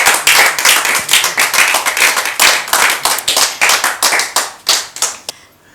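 A studio audience on a TV show claps to welcome a religious brother, a music group's leader: a loud, dense burst of hand claps with sharp individual strikes, lasting about five seconds before cutting off abruptly.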